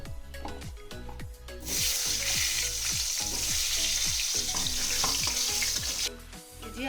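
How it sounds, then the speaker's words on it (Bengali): Potatoes fry in leftover oil from frying fish, a loud, close sizzle that swells and holds steady while a utensil scrapes and stirs through the pan in a regular rhythm. "ওই তেলের মাছের ভাজা তেলের মধ্যেই আমি আলুগুলোকে ভেজে তুলে নেব"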